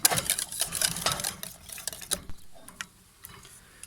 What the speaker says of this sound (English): stir that in until all the butter is melted